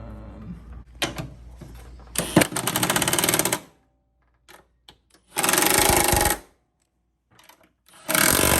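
Bolts on a Genesis Coupe's coilover suspension are tightened with a power tool, giving loud close rattling bursts with pauses between them.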